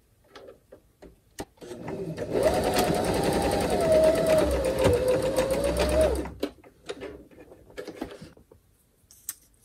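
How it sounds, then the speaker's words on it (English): A sewing machine stitches a small fabric piece for a Valentine postcard, a steady mechanical whir and rattle lasting about four seconds between quiet clicks and handling sounds. "I'm going to go ahead and sew that real quick together."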